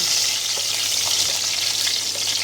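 Whole cinnamon, cardamom, cloves, peppercorns and bay leaves fry in hot oil with a loud, steady, hissing sizzle close by, cut off abruptly at the end.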